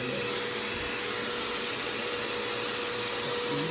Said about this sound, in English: We need the vacuum out of the shot.